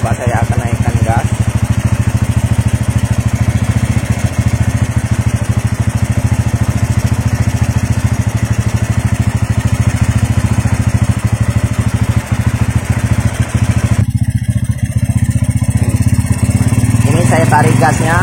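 A Honda Megapro Primus motorcycle with a faulty regulator runs at a loud, steady close-up idle with the throttle raised slightly, holding a constant droning engine note with a brief disturbance near the end while someone talks over it.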